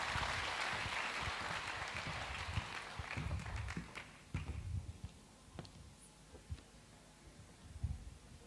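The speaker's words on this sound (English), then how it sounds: "A round of applause, ladies and gentlemen." An audience at a family conference claps in a sustained round of applause that thins out into scattered, separate claps toward the end.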